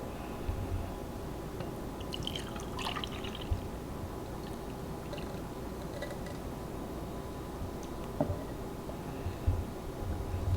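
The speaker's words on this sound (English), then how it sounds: "So I'm gonna pour them into both of these glasses." Carrot juice from a NutriBullet centrifugal juicer and a Dash upright cold press juicer poured into two glasses, a soft steady trickle with faint drips and a few small clinks, fairly quiet and with no talking.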